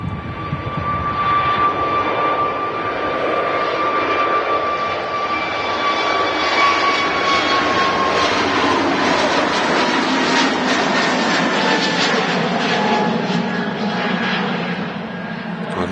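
An EasyJet jet airliner taking off at Manchester Airport, a loud sustained engine roar with a whining tone that shifts as the aircraft accelerates away, filling the whole stretch.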